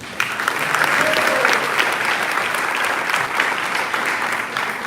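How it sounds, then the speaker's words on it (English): Warm, sustained applause from an audience at a Charro Days Fiesta poster unveiling, greeting a city commissioner, steady and full with a few sharper claps rising above the crowd. "if I could have a nice round of applause for City Commissioner Roy de los Santos"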